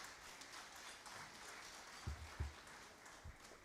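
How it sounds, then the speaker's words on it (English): Applause from diners at an awards dinner, a soft, distant patter of clapping hands across the room, broken by a few low thumps near the middle. "Let's give them a round of applause."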